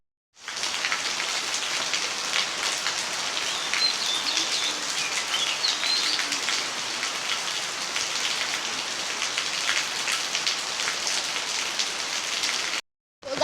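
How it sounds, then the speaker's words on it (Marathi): Rain falls steadily on surfaces outdoors, a constant close patter with individual drops audible, running unbroken for most of the stretch before stopping abruptly. "गाइस पाऊस आलेला आहे"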